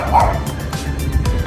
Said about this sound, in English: One of the neighbor's dogs talking to me.